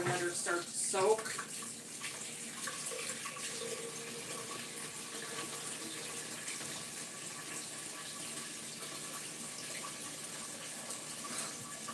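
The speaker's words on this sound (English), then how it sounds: "We're going to fill her up with water and let her start to soak." Tap water runs steadily into a mixing bowl left to soak, a soft continuous gush and trickle in a kitchen sink, fairly quiet and unbroken, with a brief clatter near the start.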